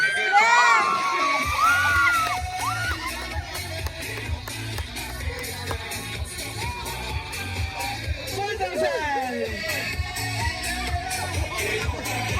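A crowd cheers and shouts at a 40th birthday party, with excited yells, whoops and children's high shouts rising at the start and again later over a thumping musical beat and chatter.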